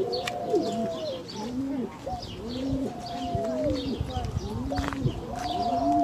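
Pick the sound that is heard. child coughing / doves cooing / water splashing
doves cooing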